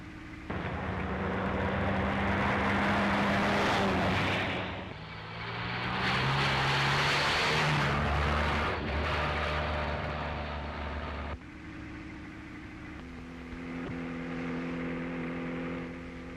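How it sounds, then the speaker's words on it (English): A 1930s car races along at speed, its engine roaring loud and steady with surges as it accelerates and eases off, and no talking over it. "I'm driving this car."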